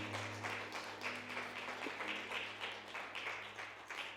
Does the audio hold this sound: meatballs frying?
no